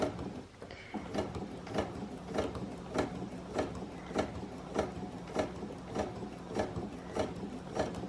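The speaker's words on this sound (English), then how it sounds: "I am now going to attempt to sew it while you are watching" A sewing machine stitches a zip in a steady series of sharp mechanical clicks and whirs at an even pace, close and fairly quiet, with no talk.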